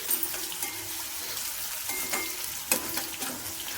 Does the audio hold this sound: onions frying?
yes